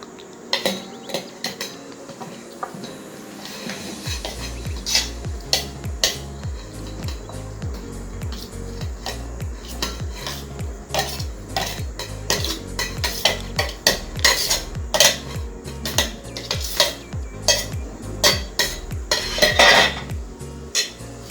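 Sliced fruit being mixed in a bowl for a fruit salad, with rapid, rhythmic clinks and scrapes of a spoon against the bowl, loud and close, running continuously after a brief quiet start.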